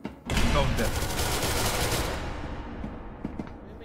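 A sustained, loud burst of automatic gunfire in the video game SCP: Secret Laboratory, dense and roaring for about two seconds before tailing off into softer noise and a few faint clicks.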